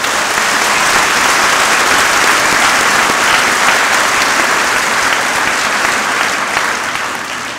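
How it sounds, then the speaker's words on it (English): A large high school commencement audience claps loudly for the school media staff, a dense roaring wall of applause held steady for several seconds before easing slightly at the end, with no voices over it. "Please give them a huge round of applause"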